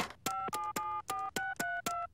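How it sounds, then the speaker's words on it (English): Telephone keypad tones in a Simpsons cartoon scene, eight loud evenly spaced dialing beeps, each starting with a sharp click, heard alone in quick succession. "I better call Mo."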